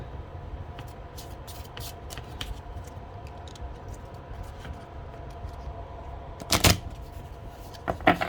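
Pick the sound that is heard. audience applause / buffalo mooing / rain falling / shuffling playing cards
shuffling playing cards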